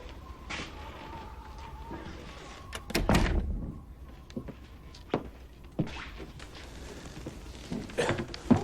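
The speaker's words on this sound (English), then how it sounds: "The door is open." A door is opened indoors in a 2000 film scene, with a heavy wooden thunk and clatter near the middle, scattered knocks and creaks around it, and faint background sounds between.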